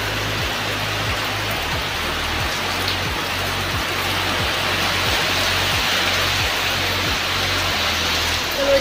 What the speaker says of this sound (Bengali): আর এইদিকে হচ্ছে ঠিক বৃষ্টি চলে এসছে